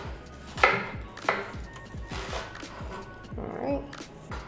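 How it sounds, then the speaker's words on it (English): A knife cuts thin slices across the end of an onion on a board, giving a few distinct crisp chops at an uneven rhythm, close and moderately loud over a faint background hum. "grab your knife, get your hand in a claw, and thin slices across the cut end"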